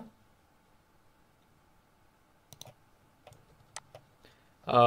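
A few soft, sharp computer mouse clicks land in the latter half, spaced irregularly against a quiet room hum with no talking.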